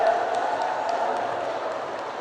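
A dense, steady wash of crowd applause, many hands clapping together at a constant level from start to finish without any pause.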